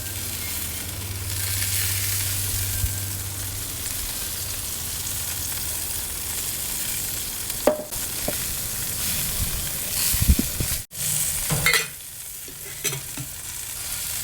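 A spatchcock turkey basting on a smoker, with a steady low sizzle and faint crackle running throughout, a few soft clunks and scrapes of handling near the end, no talking.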